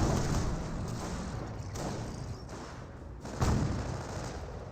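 Rapid bursts of rifle and small-arms gunfire in a Company of Heroes 1 battle between Panzer Elite and US forces, dense and continuous with a louder volley near the end, no speech.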